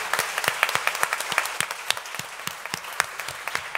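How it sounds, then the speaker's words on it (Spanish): Scattered applause for a pair of feminist rappers at a round-table event, a few hands clapping in an uneven, sparse rhythm of distinct claps at moderate distance. "Y un aplauso para las compañeras."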